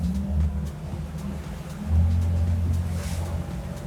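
An Axopar 29 CCX boat accelerates on open water, its outboard engines giving a low droning hum that swells louder around the midpoint, with water wash hissing faintly underneath.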